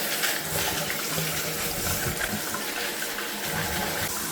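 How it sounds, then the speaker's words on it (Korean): Kitchen tap water runs steadily over smartphone cases being rinsed in a sink, a continuous close splashing rush with small shifts as the cases move under the stream, with no talking. "흐르는 물에 깨끗하게 씻어주시면 되겠습니다"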